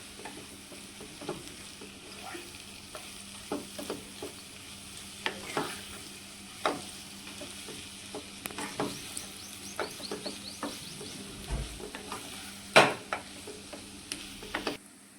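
A potato and capsicum curry is mixed with peanut-garlic masala in a pan, giving a soft low sizzle under scattered spoon taps and scrapes, fairly quiet and close.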